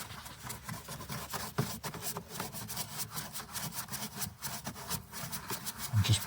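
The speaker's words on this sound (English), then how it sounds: "I'm going to take my stiff bristle brush and my Tri-Clean." Stiff bristle brush scrubbing a Dacia Jogger's interior upholstery with Tri-Clean cleaner, a steady close rasping and rubbing in quick back-and-forth strokes throughout, with no talk.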